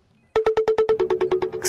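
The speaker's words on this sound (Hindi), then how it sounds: "निकत का फोन आ रहा है।" An incoming-call phone ringtone plays about a dozen quick, evenly spaced electronic beeps at a steady pitch, loud and close, with no talking over it.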